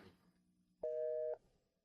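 Telephone busy signal on a call placed to a family member: a steady two-tone beep sounds once for about half a second after a quiet stretch, clear and moderately loud.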